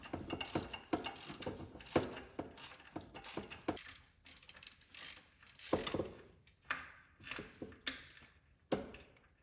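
Ratchet with a 14mm socket unthreading a bolt during transmission and transfer case removal on a 1988-94 Chevy K1500 pickup, heard as bursts of rapid clicking in a repeating rhythm, close and fairly quiet, with no talking.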